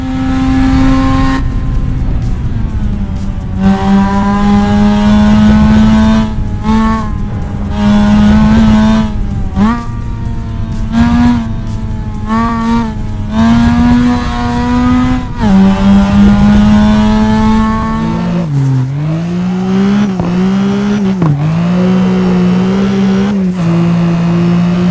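Car engine drifting in CarX Drift Racing Online, a loud, continuous high-revving drone that rises and falls with throttle blips and gear changes, with tire squeal layered throughout.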